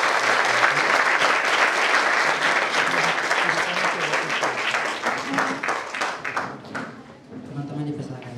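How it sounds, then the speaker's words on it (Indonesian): Steady, loud applause from an audience of students for a teacher at a Christian high school fills the room, thinning toward the end while voices speak over it. "Berikan tepuk tangan untuk Bapak Guru."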